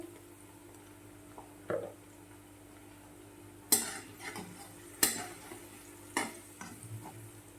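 A pinch of asafoetida hits hot oil while a fenugreek, green pea and potato curry is cooked, giving a few short sizzling bursts and faint utensil clinks in a quiet kitchen.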